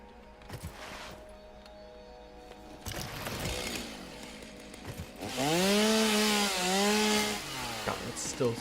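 Chainsaw cutting wood in the video game Satisfactory: a rising, revving engine whine grows loud in the second half, with arching pitch sweeps as it bites, after quieter rummaging sounds and a brief voice early on.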